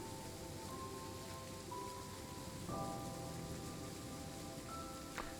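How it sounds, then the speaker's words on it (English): Light rain falls steadily in the Train Sim World 3 railway simulator on the Kassel to Wurzburg line, a soft continuous patter under faint droning tones, quiet and without talk. "It's raining a bit."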